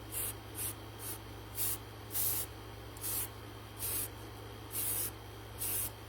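Short bursts of gray spray paint misted from a distance onto a resin shark model kit, about eight separate spritzes in an irregular rhythm over a steady low hum, no voices.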